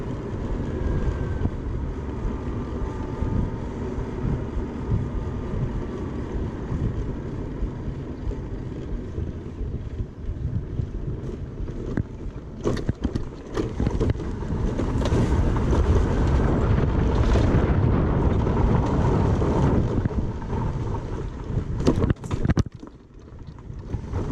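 A Keeway 20s 150 scooter accelerates hard, its engine roaring loud and close throughout under heavy wind buffeting, with the revs surging higher toward the end before briefly dipping.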